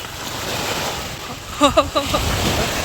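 Sea waves wash steadily onto a beach close by, a continuous rushing surf with wind across the microphone, while a voice speaks briefly over it near the end.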